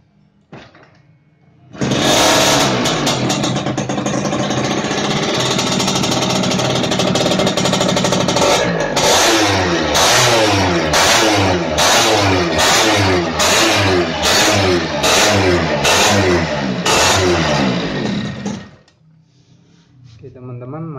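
A Yamaha Fiz R motorcycle engine starts and runs loudly nearby, then revs in repeated rhythmic bursts before cutting off, with a voice faintly beneath.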